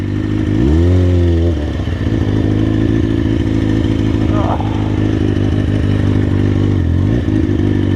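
Motorcycle ridden slowly along a bumpy dirt trail, its engine loud and close with a steady, throbbing note and brief rising revs near the start and again near the end.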